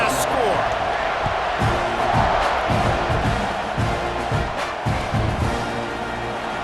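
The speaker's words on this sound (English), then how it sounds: "this crowd is buzzing after that last score" A football stadium crowd roars and buzzes steadily after a score, a dense continuous wash of voices with scattered shouts and whoops, while an announcer talks over it.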